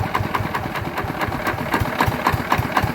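A Yanmar TF 120 diesel engine being upgraded to 150 spec runs steadily nearby, making a rapid, even chugging thump with a rattly mechanical clatter.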